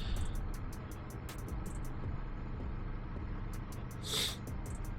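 A 2024 Aprilia Tuono V4 1100 motorcycle engine pulling steadily in second gear while taking a corner on cold Pirelli tires, a continuous low drone under wind noise with a brief swell near the end.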